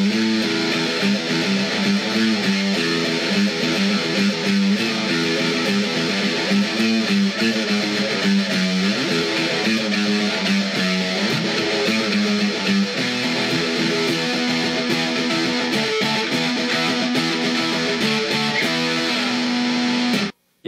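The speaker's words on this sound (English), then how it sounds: "Now let's talk about the fuzz pedal." Electric guitar through a NEXI fuzz pedal plays a long run of thick, saturated riffs, a steady loud buzzy fuzz tone that carries on without pause for about twenty seconds, with no talking.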